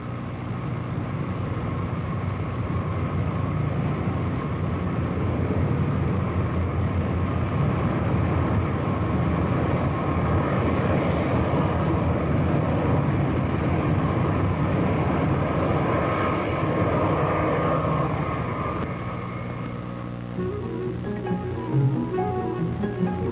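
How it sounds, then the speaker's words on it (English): A jet plane on final approach to Logan Airport, arriving from West Berlin, roars in a steady broad rumble that swells and holds for about twenty seconds before thinning out near the end. "a jet plane arriving from West Berlin made its final approach at Logan Airport"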